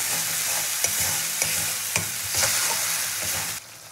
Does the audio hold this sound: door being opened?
no